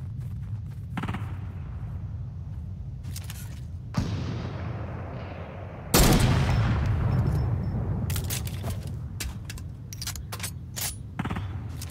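Gunfire in a Fortnite duos match: several bursts of shots, some rapid, separated by short gaps, with a loud blast partway through, all close and with no talking.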